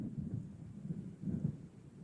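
Low, distant rumbles of thunder roll in from an approaching storm in the video game Alan Wake, in two soft swells. A faint background hiss like rain or wind sits under them, and nobody speaks.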